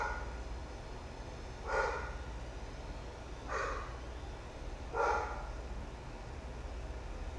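Aria, a pet dog, barks three times at spaced intervals somewhere in the background, each bark short and moderately distant over a steady noise bed.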